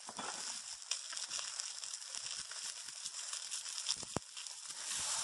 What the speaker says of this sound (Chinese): 然后再开盖煎到鱼皮金黄